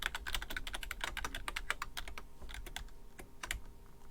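Rapid, irregular keystrokes on a computer keyboard as code for a ternary search algorithm is typed, close and crisp with brief pauses between bursts and no talking.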